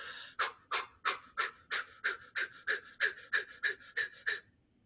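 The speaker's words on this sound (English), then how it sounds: "I'm really just going to focus on my exhale and throwing those darts. So I'm going to breathe in and go." Forceful rhythmic breaths push out in a mindfulness breathing exercise, about twelve sharp, evenly spaced exhales in a steady pulse, close and clear, then stopping into silence.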